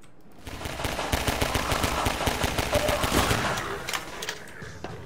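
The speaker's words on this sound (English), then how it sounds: "Stop shooting me." Rapid automatic gunfire in the game Half-Life 2 Episode 2, dense bursts of shots hammering toward the player for several seconds before tapering off.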